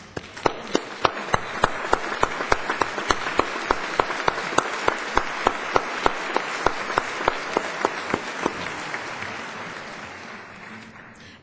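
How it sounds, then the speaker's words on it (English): A sustained round of applause from a standing ceremony audience honoring distinguished individuals, a broad wash of clapping with crisp, regular accents riding on top, gradually tapering off toward the end. "Please stand around the room and remain standing so we can give you a warm round of applause."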